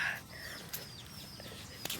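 Pigeons in their coop on a dark, rainy day. Faint coos and chirps with a brief wing flutter over a steady hiss of rain, heard from a distance.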